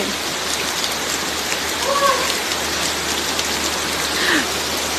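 Heavy rain pours steadily outdoors in Thailand, close and loud, as a constant dense hiss with a few faint voices in the background.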